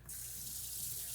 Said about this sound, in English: Let the hot water go for a minute.